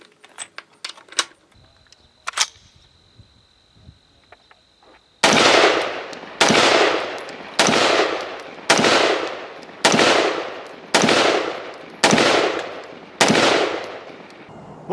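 A Crusader Arms Templar AR-180 piston rifle fires Fiocchi ammunition: after faint clicks and handling noise, nine loud, evenly spaced shots ring out about one per second, each with a decaying echo.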